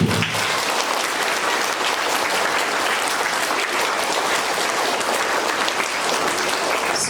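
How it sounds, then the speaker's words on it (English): An audience applauds award recipients at a quarterly awards event, a loud, even wash of clapping that holds steady throughout. "Now we'll clap for this group."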